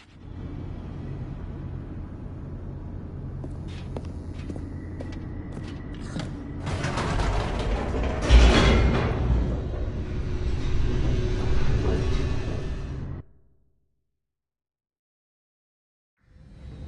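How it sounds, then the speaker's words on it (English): A descending elevator in The Stanley Parable, a steady mechanical rumble with creaks that swell into a loud grinding clatter, then cuts off into silence. "The elevator raced downward, plummeting towards an unknown fate."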